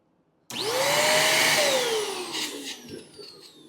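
A Deerma DX115C portable vacuum cleaner starts abruptly and runs with a loud, high whine whose pitch rises, then sags as it sucks up debris, close and alone with no speech.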